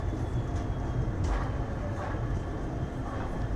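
An express train from Charlapalli to Tirupati rolls along toward Kazipet Junction, its low rumbling drone steady and continuous throughout, heard from inside with faint background noise.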